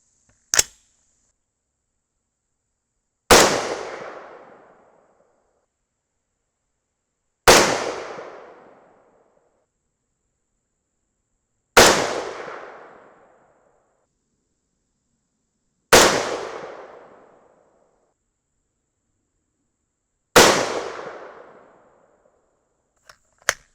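Five unsuppressed rifle shots during barrel harmonics testing ring out alone at steady intervals of about four seconds, each a sharp loud crack followed by a short decaying echo, with faint clicks at the start and end.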